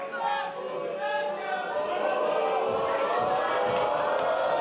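Crowd at a wrestling event rumbling and murmuring steadily, a dense continuous roar of many voices with faint shouts rising above it, no clear individual speech.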